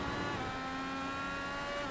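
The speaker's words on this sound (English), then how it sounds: "Hitting that rev limiter" IndyCar race car engine at Road America in iRacing, holding a steady high buzzing pitch at the rev limiter in a slipstream, loud and close throughout with no talk.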